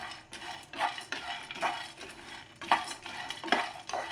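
Muskmelon seeds fry in a pan on a low flame while a spoon stirs them. Rhythmic scraping sweeps repeat about once a second over a faint crackle, close and fairly quiet, with no speech.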